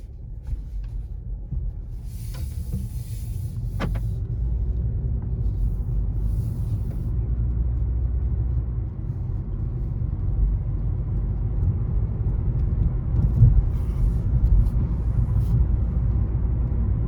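A 2021 Volkswagen Golf 8 R-Line drives on a neighbourhood road, heard from inside the cabin as a steady low road and engine rumble with faint tyre whir.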